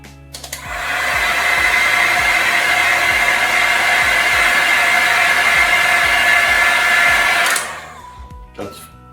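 A heat gun blows steadily and loudly for about seven seconds, warming shrink tube on a fishing rod handle, switching on near the start and cutting off abruptly near the end, with a few light knocks beneath.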